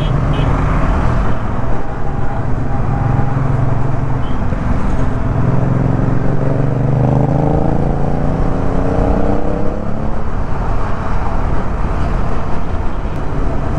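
High-displacement Aprilia motorcycle engine revving loudly and steadily nearby, with rising and falling engine pitch sweeps over a continuous roar, no talking.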